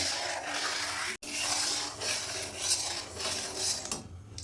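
Spoon stirring milk cake (kalakand) mixture in a pan, continuous scraping and rubbing against metal with a soft hiss, close and steady apart from one brief break.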